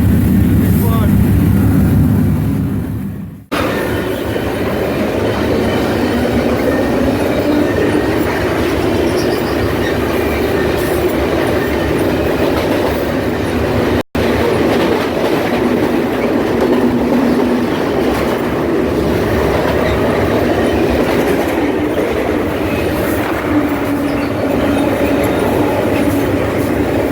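A moving BNSF freight train on the Southern Transcon between Needles, California and Winslow, Arizona rumbles steadily up close, continuous wheel and rail noise with faint clatter, broken by a couple of brief cuts.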